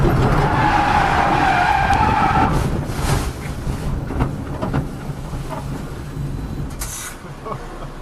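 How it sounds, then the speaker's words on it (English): Car skidding and spinning out during a testing session at Snetterton circuit: a loud, rising tyre squeal for about two and a half seconds, then rumbling, scuffing engine and road noise as the car comes to rest. "that's my first ever spin in a car"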